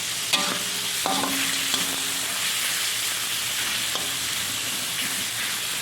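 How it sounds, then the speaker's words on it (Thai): Pork stir-fries in a hot pan under a steady loud sizzle, with a few sharp clinks of a utensil scraping and stirring near the start. No one speaks. "เดี๋ยวเราก็จะผัดให้มันหอมนะคะ"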